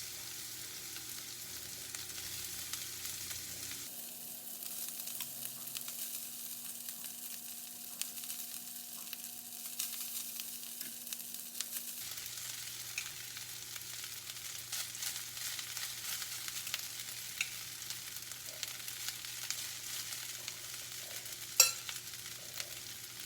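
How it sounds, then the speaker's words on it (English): Rice being stirred and fried in a pan for sweet and sour chicken fried rice, with a steady soft sizzle and occasional scraping, quiet and without talk. "Then I'll add my rice slowly."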